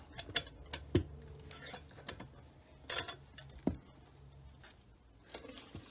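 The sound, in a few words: tightening a vise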